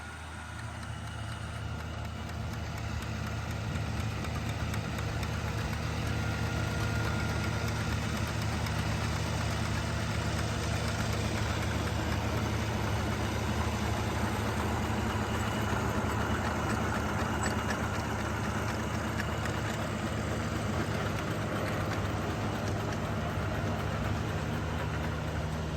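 Tractor engine idling on a dairy farm, the machine used with a PTO-driven rototiller for working beds; a steady, low, droning rumble held evenly throughout at moderate distance.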